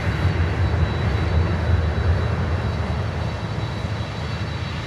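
An Air Canada Cargo airliner's engines roar in a steady, broad rumble, loud and continuous, with no voices over it.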